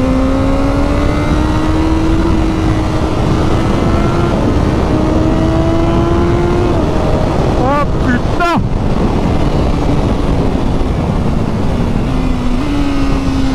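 A motorcycle at speed on a race circuit, its engine note climbing and dipping through gear changes, with a sharp shift mid-pass, all close and loud beneath heavy wind rush.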